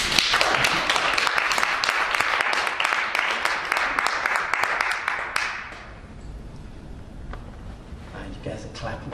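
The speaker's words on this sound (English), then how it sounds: "You guys are clapping to humor me." An audience at a poetry reading in the Hudson Valley claps after a poem, dense sustained applause for about five seconds that then thins out to a few scattered claps and room noise.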